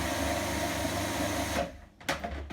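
A food processor whizzes a coconut mixture for homemade Bounty bars into a paste, a steady loud motor whir that cuts out abruptly, followed by a couple of short clunks and brief bursts.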